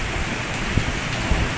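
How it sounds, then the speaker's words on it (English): Rain falling in Dubai, heard as a steady, dense hiss of drops with a few louder pattering hits, close by and continuous throughout, with no voices. "this is my first time in 2 years that I have seen rain in Dubai"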